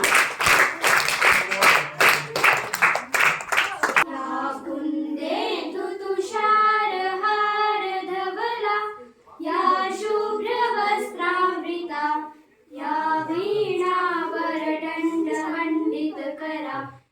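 Audience clapping at a government middle school farewell programme, a few seconds of dense applause that cuts off and gives way to children singing.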